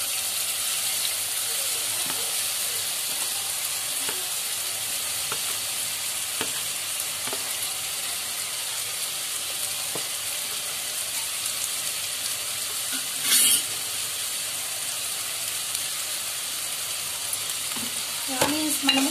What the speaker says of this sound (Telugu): మనము కొంచెం పచ్చివాసన పోయేంత వరకు వేపుతున్నాము